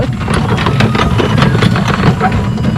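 A motorcycle engine runs steadily at close range on an outing, a loud continuous low rumble with no break and no speech over it.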